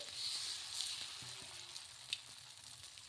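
Pumpkin dosa batter sizzling on a hot pan, a soft steady hiss with faint crackles and an occasional small pop, fairly quiet and without voices.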